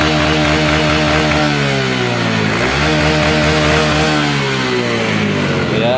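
A Honda Supra X 125 injection motorcycle with a fuel-hungry engine, black spark plugs and black exhaust smoke revs loudly and continuously up close, the engine pitch dipping briefly and then rising again.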